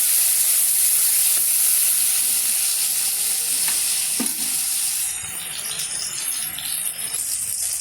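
Onion frying in mustard oil in a wok, a loud close steady sizzle with scraping stirs, easing slightly toward the end, with no voices.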